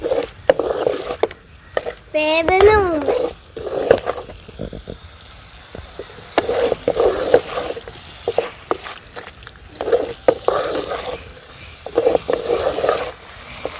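Chicken pieces are stirred and tossed in a hot pan while cooking ginger chicken, repeated scraping and sizzling bursts over nearly fourteen seconds, close and fairly loud, with a brief high squeal early on.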